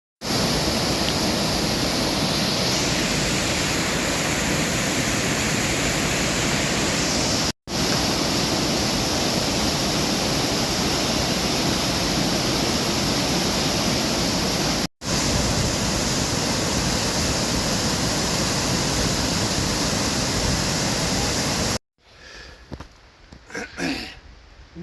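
River water rushes at a fording point as a loud, steady broadband roar that runs almost unbroken, with two brief cuts, before dropping to a much quieter stretch with faint scattered sounds at the end.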